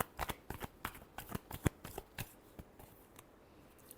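Tarot cards are shuffled by hand in quick, papery riffling bursts, close and fairly quiet, with brief pauses between flurries.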